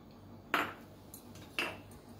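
A spoon stirs jeera rice with coriander leaves and cashew nuts in a pan, making two distinct metallic clinks against a quiet, faint background.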